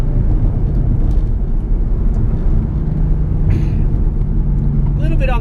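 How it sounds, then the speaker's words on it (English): A stock 2012 Mustang GT engine braking in third gear on a tight mountain road, with a steady, loud low drone that holds even and continuous throughout. "Use the engine braking to slow down."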